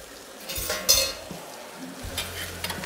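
Veal sweetbreads sizzle in butter in a pan, a soft steady fry broken by stirring scrapes and a few light utensil knocks at close range.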